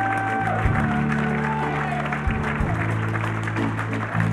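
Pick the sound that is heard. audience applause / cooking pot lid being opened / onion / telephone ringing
audience applause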